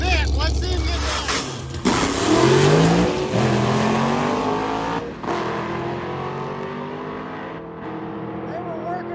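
Mike Finnegan's drag car Blasphemy roars through its first pass of the day at a Sick Week drag-and-drive event, the engine note climbing steadily in pitch as it accelerates, loud and close before easing off.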